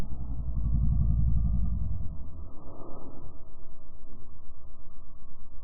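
A Mazda Miata with a crackle tune, adjusted timing and the first- and second-gear throttle cut removed, first gives a deep, muffled exhaust roar, then settles into a steady, rhythmic low burble.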